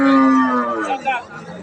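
A cow lows once, a long, loud, close moo that fades, among dairy cattle, local and Sahiwal breeds, at a traditional village livestock market in Dinajpur, with faint crowd chatter behind.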